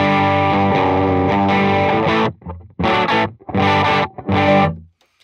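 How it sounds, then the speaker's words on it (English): A Gibson ES-339 guitar played through a Benson Monarch Reverb amp with a Paradrive overdrive pedal, giving a loud, sustained, richly overdriven chord that rings out, followed by three punchy strummed bursts separated by short gaps. "So I got a Gibson ES-339 running to a Benson Amps Monarch Reverb."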